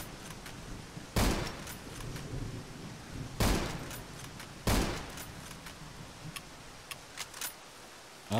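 Three sharp gunshots from a weapon in the top-down shooter video game Zero Sievert, spaced irregularly a couple of seconds apart, followed by faint clicks and ticks, with no talking.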